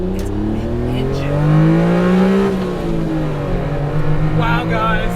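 A Honda Beat's mid-mounted engine, sitting behind the occupants, revs up and climbs in pitch, peaks loudly around the middle, then eases back down into a steady buzzing drone.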